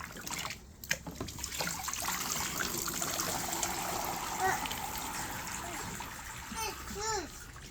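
Water splashes and trickles in a children's splash table as young cousins play outdoors, with a steady wash of running water and small splatters under a voice and adult chatter.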